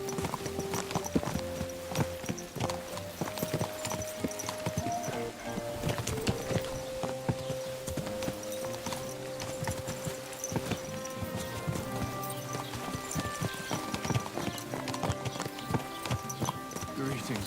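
Horse hooves clip-clop at a steady walking rhythm in the video game Kingdom Come: Deliverance II. Game music and voices carry on throughout, with a faint whinny at one point.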